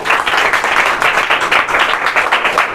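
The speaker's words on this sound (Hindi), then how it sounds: "तो डॉक्टर्स, इंजीनियर्स सभी के लिए जोरदार तालियां बजा दो।" Vigorous, close clapping from a group of students in a classroom lesson, a brief burst of rhythmic, energetic hand claps.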